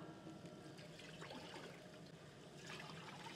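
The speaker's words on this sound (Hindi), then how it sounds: "इसके अंदर हमने 2 लीटर पानी शामिल करना है" Two litres of water pouring into a pan on a stovetop, a soft, steady trickling splash that stays faint and continuous throughout.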